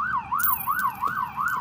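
A police car siren wails in a steady rising-and-falling cycle, several quick sweeps in a row, heard fairly clearly at moderate distance with no talk over it.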